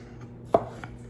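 A knife cuts through a par-cooked potato on a board as the potatoes are being quartered, giving one sharp, close chop with a faint softer cut after it. No one speaks.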